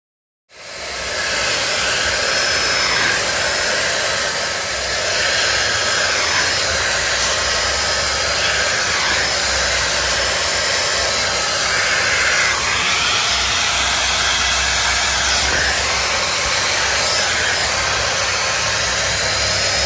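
A Dyson AirWrap Complete hair styler blows air steadily while styling afro hair, a loud continuous whooshing whine that starts abruptly and holds for the whole stretch with slight shifts as it moves.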